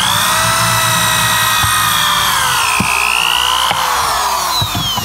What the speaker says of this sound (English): Now we're going to drill the holes.